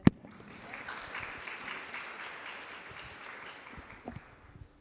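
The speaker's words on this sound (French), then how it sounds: "On peut applaudir pour elles pour la présentation." An audience applauds after a presentation at a brand forum, a moderate burst of clapping from a seated crowd that swells briefly and then tapers off.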